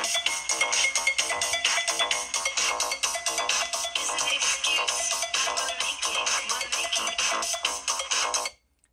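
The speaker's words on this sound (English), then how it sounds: "some music samples to sort of test out the speaker as far as how it sounds" Bright, rhythmic music plays through the small, thin-sounding speaker of a Samsung Galaxy S7 Edge smartphone for several seconds, then cuts off abruptly.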